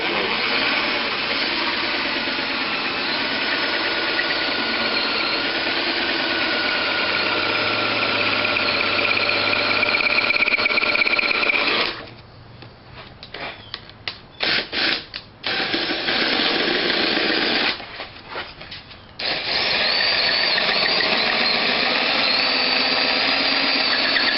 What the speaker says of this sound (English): This is kind of a flat side on the front, so I think I'll drill a hole there.